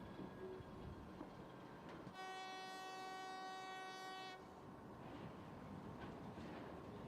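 A military train from a 2016 training film: steady rumbling rail noise with a loud, sustained multi-tone horn blast of about two seconds, then continued rolling wagons.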